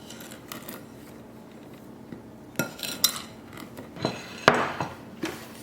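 Sugar and dry ingredients for banana bread mixed in a bowl: quiet scraping at first, then several louder irregular clinks and knocks of a utensil against the bowl, close by, with no talking.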